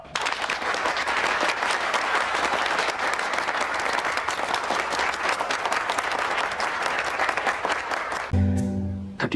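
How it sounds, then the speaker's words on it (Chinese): An audience gives sustained, loud applause welcoming a new boss into the company, dense clapping that holds steady and then breaks off into a short musical tone at the end. "我们下面再一次用最热烈的掌声欢迎庞总加入我们这个大家庭"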